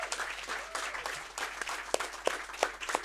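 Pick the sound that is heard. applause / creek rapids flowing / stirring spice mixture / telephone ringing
applause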